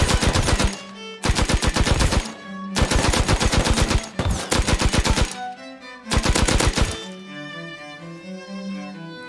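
A video game machine gun fires in five loud rapid bursts separated by short pauses, each burst a dense run of sharp close shots, followed by a quieter tail.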